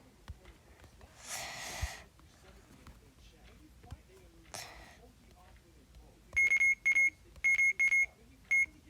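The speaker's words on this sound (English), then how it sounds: "What's that beeping?" Electronic beeping in the Roblox game Revenge of the Slimes, a series of short, sharp, evenly pitched beeps in quick bursts, preceded by a couple of breathy noises.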